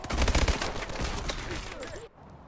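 Rapid video-game gunfire, shotgun blasts mixed with rifle shots, crackles in a dense, loud burst for about two seconds before cutting off abruptly into quiet.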